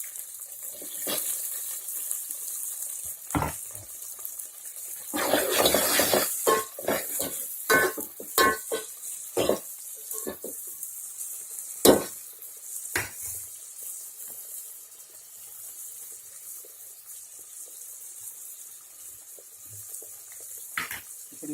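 Tomato pieces and onions sautéing in a pan for a tamarind rasam, with repeated sharp spoon scrapes and clinks against the pan over a faint sizzle, irregular and close.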